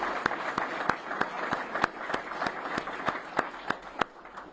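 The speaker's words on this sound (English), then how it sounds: "So if we could give Dylan Harden and Mary Elizabeth Lash another round of applause." An audience gives a round of applause for two people at a sports team gathering, a steady wash of clapping with a few sharp, evenly spaced claps standing out up close.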